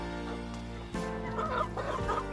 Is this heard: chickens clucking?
yes